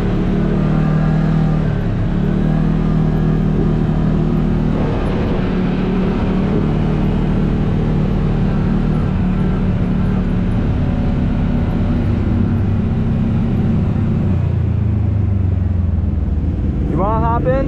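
A Kawasaki off-road vehicle engine roars loudly at close range in a steady high-revving drone while racing a Polaris, with crowd noise and voices mixed underneath and a rising whine near the end.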